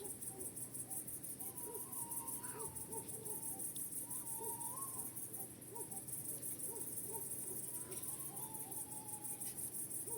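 Faint owl calls sound a few times in the distance over a steady bed of chirping crickets on a quiet night.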